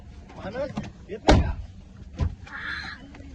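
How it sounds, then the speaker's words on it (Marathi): A single solid thud of a car door slamming shut, followed by a softer knock, while people talk nearby. "लागला दरवाजा."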